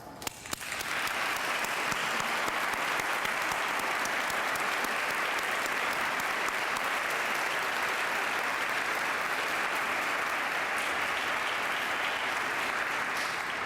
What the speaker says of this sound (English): all give a round of applause for all of our veterans and for everyone who is part of their lives